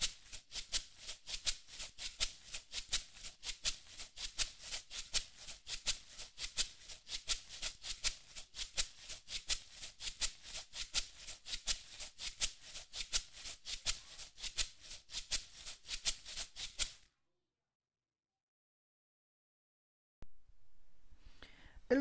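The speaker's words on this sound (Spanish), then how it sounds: "yo usaré una botella vacía con arroz adentro" An empty bottle filled with rice, shaken as a maraca, plays a steady cumbia rhythm of rapid, crisp hissing pulses for about seventeen seconds, close and alone, before stopping into silence.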